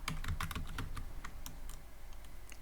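Fingers type on a computer keyboard at close range, a quick irregular run of crisp clicking keystrokes that thins out toward the end.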